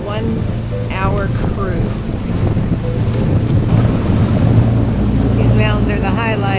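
A boat cruises on open water between Refuge Cove and Grace Harbor in Desolation Sound, with steady wind buffeting and a rushing wash of water, while people talk intermittently over the noise.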